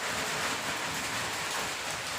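Heavy monsoon rain pouring outside a house with an open stairway, a dense, steady hiss of falling water with no other sounds.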